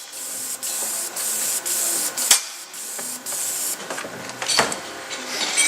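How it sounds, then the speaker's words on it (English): A spray gun sprays a few ounces of catalyzed coating material during start-up priming, giving a steady close hiss in repeated bursts with brief pauses, alone without talk. "We're going to spray a little material just to make sure that we're going to get catalyzed material out of the gun."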